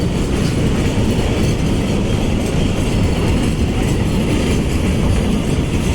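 Alsthom locomotive 4308 hauls freight train 777 on a Thai railway, a loud, steady rumble and clatter of rolling wagons passing close by without a break.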